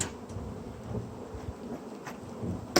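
Honeybees buzz faintly at an open hive, a soft continuous hum with a few brief louder bumps and rustles.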